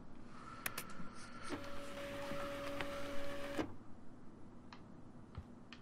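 A printer at work in the video game Life is Strange: a faint mechanical whir with a steady hum and scattered ticks, running for several seconds before stopping abruptly, followed by a few soft clicks.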